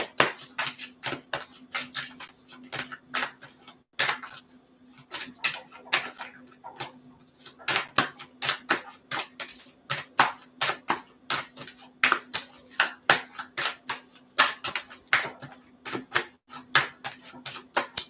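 Tarot cards being shuffled in quick crisp riffles and taps that repeat through the whole stretch, close to the mic, with a steady faint hum underneath.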